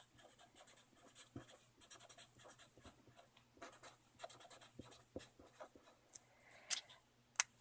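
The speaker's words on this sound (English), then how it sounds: "So I'll just write that down." Pen writing on paper during a chemistry calculation: quiet, close scratchy strokes in irregular bursts with short pauses, faint and alone.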